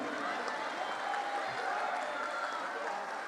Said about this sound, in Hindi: इनके लिए एक बार तालियां।